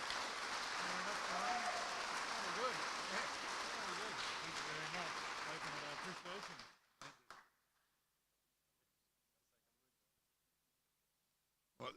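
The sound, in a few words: audience applause for Brian Hare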